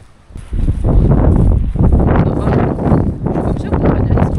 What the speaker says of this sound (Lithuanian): Ir vėl vėjas.